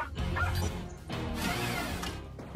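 Cartoon robot dog barks in short bursts from a children's show about a patrol, the bright, loud yelps mixed with music and effects.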